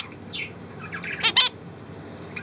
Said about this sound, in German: Du bist der Milka-Vogel, ne?